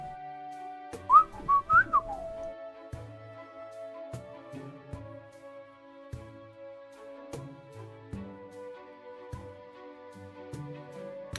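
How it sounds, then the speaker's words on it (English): A person whistles a short, bright run of rising and falling notes near the start, followed by sparse thumping beats and a steady sustained tone underneath. "You can whistle."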